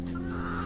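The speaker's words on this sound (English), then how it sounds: "That's the rooster" Rooster calling in a farm pen, a single short close call with steady harmonic tone, loud and alone.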